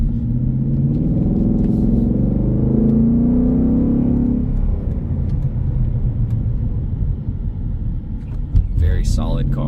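Exhaust of a 2023 Ford Mustang GT Premium Roush with Track Pack under light throttle: a loud, deep, throaty drone whose pitch climbs for about four seconds, then settles into a rougher, burbling rumble.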